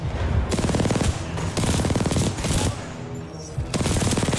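Turret firing in Titanfall 2 on the hardest difficulty: rapid, loud machine-gun bursts in several sustained volleys separated by brief gaps, close and dense, dominating the scene.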